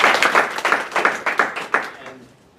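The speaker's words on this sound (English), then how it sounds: "so if you can give him a round of applause" Brief applause from a town hall audience on police abuses in Maryland: a burst of clapping with several distinct louder claps standing out, fading out over about two seconds, with a faint voice in the room.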